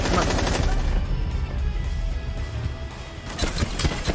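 Gunfire in the Rainbow Six video game, with dense, rapid shots crackling in bursts and a heavy sharp volley near the end.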